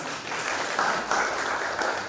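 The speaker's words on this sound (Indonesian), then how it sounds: "Tepuk tangan buat Allah lagi." Brief, dense applause from a congregation at a church Christmas service, a continuous rush of clapping hands that swells slightly in waves and has no speech over it.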